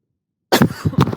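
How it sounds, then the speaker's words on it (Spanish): A man coughs into a microphone up close, a sudden loud cough after a moment of silence followed by a few shorter coughs and throat noises. "quiero aplastarle aquí al micrófono para toser"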